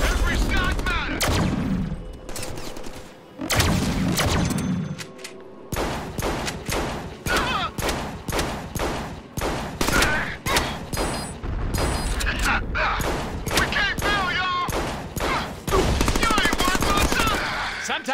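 Rapid bursts of gunfire from the Deadpool video game on Xbox One S, loud and close, with repeated machine-gun volleys and single shots over the full stretch.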